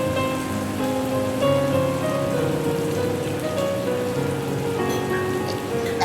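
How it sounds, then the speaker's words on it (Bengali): Onions fry in oil with a loud, continuous sizzling hiss that holds level throughout, underlaid by a faint steady hum; no speech. "ভাজা হচ্ছে আমার তেলের উপর পেঁয়াজগুলো।"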